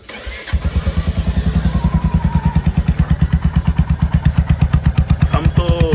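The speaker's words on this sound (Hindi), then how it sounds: "अब जो है विदाउट एग्जॉस्ट भी वह साउंड सुन लेते हैं कैसा साउंड आता है" A Royal Enfield Hunter 350 single-cylinder engine runs with its stock exhaust removed, firing as a loud, close, rapid pulsing thump after a brief start, steady throughout with a slight rise near the end.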